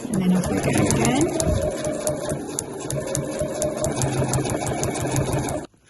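Sewing machine stitching the bound edge of a fabric placemat with a few back stitches. The motor hums steadily and close under a speaking voice, then stops abruptly at the end.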